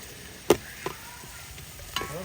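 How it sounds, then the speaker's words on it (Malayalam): Sliced beans, carrot and onion are being sautéed in butter for chicken fried rice, a soft sizzle with a few sharp spatula knocks and scrapes against the pan, close and without talk. "അപ്പം നമുക്ക് സവാളയും കൂടി ഇട്ട് വഴറ്റി കൊടുക്കാം."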